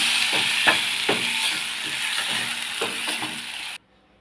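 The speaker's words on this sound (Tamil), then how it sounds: "பருப்பு எரிஞ்ச உடனே மிளகா கருவேப்பந்தழை எல்லாம் போட்டுக்கணுங்க" Dal, chillies and curry leaves frying in oil for tomato chutney, a continuous crackling sizzle with repeated stirring scrapes, close by, ending abruptly in silence, no voices.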